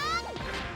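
A glass-breaking effect from the Xenogears video game plays as a brief bright chime that gives way to a short crashing shatter, loud and isolated.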